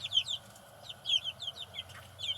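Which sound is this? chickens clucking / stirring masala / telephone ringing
chickens clucking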